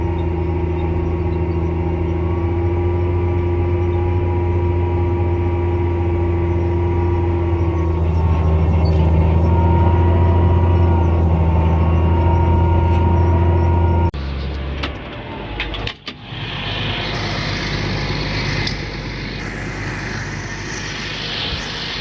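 A tractor pulling fall tillage equipment through a compacted field drones loudly and steadily with a deep engine hum, then shifts to a rougher, broadband rumble partway through, with no voices.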